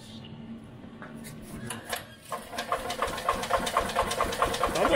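An EZGo golf cart engine, freshly fitted with a new fuel pump and a cleaned carburetor and running on mixed fuel, cranks and catches, then settles into a steady, close, busy running rattle that grows louder toward the end.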